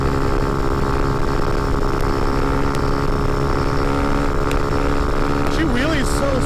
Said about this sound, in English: She wheelies so smooth now, though.